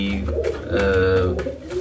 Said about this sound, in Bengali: লাহড়ি পায়রা। এটা হচ্ছে গ্রে বার, সামনে যেটা দেখা যাচ্ছে ওটা হচ্ছে ফিমেল, আর ওদিকে ভেতরে যেটা আছে ওটা হচ্ছে ব্লু বার মেল।